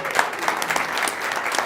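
An audience claps for a man being welcomed onto a motivational-talk stage, a steady dense patter of applause through the whole stretch with no voices over it.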